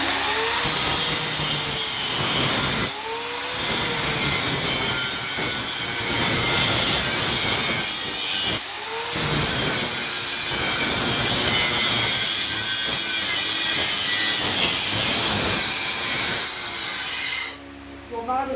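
An old angle grinder with a worn, failing bearing runs continuously, giving a loud, harsh whine and gritty scraping. Brief dips in intensity break the sound before it cuts off near the end.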